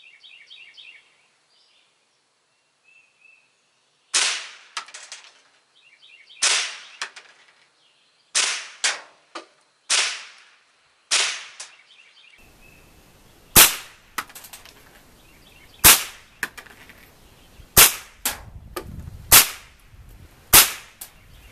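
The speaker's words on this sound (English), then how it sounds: "I'm going to see if I can get a nice little group on that with about 4 or 5 shots." A Savage Model 62 rifle fires a series of sharp, loud shots spaced a second or two apart, roughly a dozen cracks across the span, each ringing out briefly outdoors, with faint bird calls between them early on.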